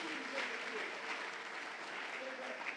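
A church congregation applauds in praise, a sustained, fairly distant wash of clapping from many hands with voices mixed into the crowd noise.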